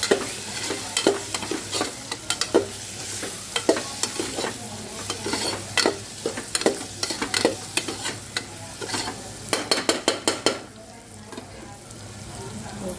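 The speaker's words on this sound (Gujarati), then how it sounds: "હળદર, બધું સારી રીતે મિક્સ કરી દઈએ" Turmeric and spices stirred in a pan with a spoon, repeated scraping strokes over a steady low sizzle, close and clear with no talk.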